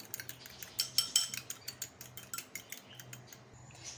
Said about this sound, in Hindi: अब हम इसमें अंडा डाल देंगे और इसको अच्छी तरह से हम फेंट लेंगे ऐसे